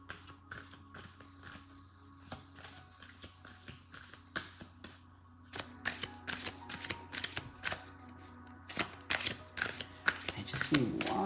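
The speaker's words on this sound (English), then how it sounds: "So I'm just going to shuffle out a few cards" Dark Mirror Oracle cards are shuffled by hand close up, a quick run of crisp riffling snaps that grows busier and louder toward the end, with a low hum beneath.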